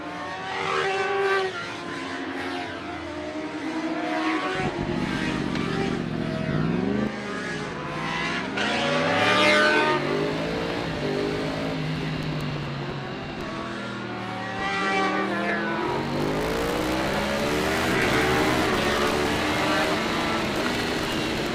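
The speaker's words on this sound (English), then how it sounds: "As bikes take the course for the open race." Racing motorcycles heading out on the course for an open superbike race, loud engines revving and whining with rising and falling pitch as bikes pass by one after another, a continuous roar with Doppler sweeps.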